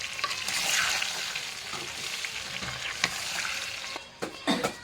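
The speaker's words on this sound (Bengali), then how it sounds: "সবগুলো একটু উল্টা পাল্টে দিব, সবগুলো তেলের সাথে করে দিব।" Olives being turned over in hot oil for an olive pickle, a bright hissing sizzle with scraping stirs throughout, growing choppier with sharp clinks toward the end.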